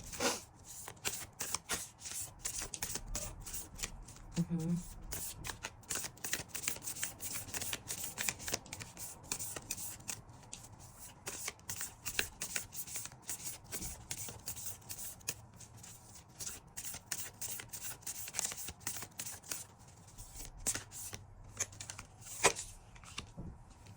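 Moonology oracle cards shuffled continuously by hand: rapid riffling flutters and soft slaps, close and steady for the whole stretch, with no talking.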